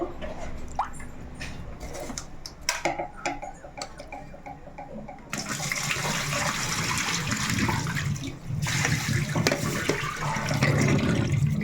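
Rice being washed by hand in water for a Sunday home meal, with splashing and swishing that grow steady and louder after a few sparse drips and taps, continuing close by without talk.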